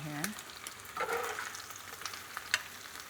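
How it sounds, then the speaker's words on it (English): Pork chops fry in olive oil in the same pan used for potatoes, a Calabrian pork dish, giving a soft steady sizzle with faint crackles and an occasional utensil tap, close and quiet. "So I'm gonna cook the pork chops in the same olive oil that I cooked the potatoes in"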